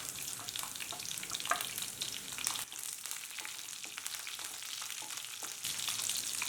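Onion, garlic, mustard seeds and chana dal fry in hot oil for spicy tomato chutney, a steady crackling sizzle with sharp popping spits scattered across it and occasional stirring.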